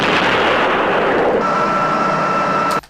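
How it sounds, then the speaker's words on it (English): A rocket pod on a Saab 35 Draken fires in a combat flight video game, producing a dense, continuous roaring rush that stays loud for nearly three seconds, gains a steady whine partway through, and then cuts off abruptly. "It's just a rocket pod firing."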